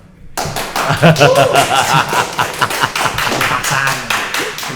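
Hands clap repeatedly in a podcast studio over a lively chat about 90s punk nostalgia, crisp close claps in quick bursts while people laugh and talk over them.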